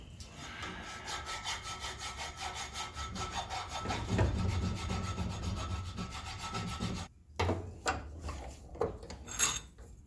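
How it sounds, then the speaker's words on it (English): A sword handle is ground and filed down, giving a rhythmic rasping, scraping stroke sound that repeats steadily, with brief pauses and a few sharper scrapes near the end. "So I ground down the handle and fitted everything."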